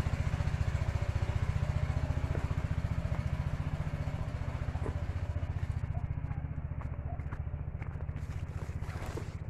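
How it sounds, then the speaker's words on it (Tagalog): Motorized sprayer engine running steadily while spraying pesticide on calamansi trees in an orchard, a loud, close, continuous pulsing drone with no talk over it. "Ayan, nag-i-spray ng kalamansi"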